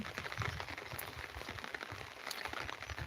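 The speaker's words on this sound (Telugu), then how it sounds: "ప్రజెంట్ అయితే ఈ విధంగా వర్షం అయితే అనమాట" Rain falls steadily in hilly tribal country during a heavy downpour, a faint, even patter with soft scattered drops and no voices.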